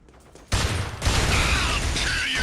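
A video game shootout erupts into loud, continuous rapid gunfire that breaks in suddenly after a quiet start and keeps going as a close, dense barrage.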